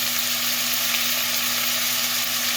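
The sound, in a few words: onions sizzling in a hot pan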